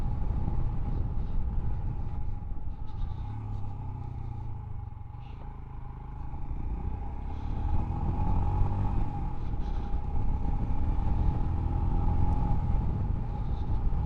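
A 2021 Royal Enfield Himalayan motorcycle rides along at speed, its steady engine drone and tone mixing with heavy wind and road rumble, continuous and fairly loud with slight rises and dips in pitch.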